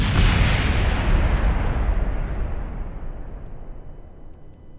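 Rocket boosters explode in Kerbal Space Program, a loud, booming blast with a long rumbling decay that fades over several seconds, heard alone without any voices.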